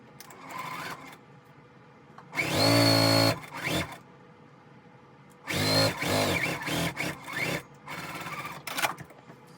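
A sewing machine stitches quilt pieces together in two bursts of steady whirring, the first short and the second longer and broken into stop-start runs, heard up close in a quiet room.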